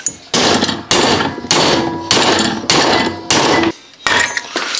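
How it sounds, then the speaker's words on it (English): Seven heavy, ringing hammer blows land on a RZR U-joint clamped in a vise, evenly spaced about every 0.6 seconds, loud and close, each metallic clang decaying before the next strike. "you can kind of just take your hammer just like that, pry it out"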